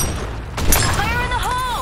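A grenade blast in the video game Broken City, a sharp boom with a burst of crackling debris near the middle of a short loud stretch of game noise, with no speech over it.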